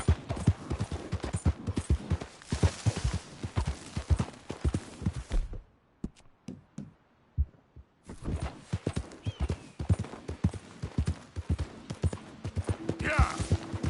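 A horse gallops in Red Dead Redemption 2, its hoofbeats pounding in a fast, close, rhythmic clip-clop that drops out briefly mid-way before resuming, with a brief voice.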